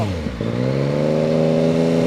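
A 2019 Yamaha MT-09 motorcycle with a full-system Akrapovic exhaust revs up sharply, then holds a steady, loud, close engine drone with a rising harmonic whine and no voices.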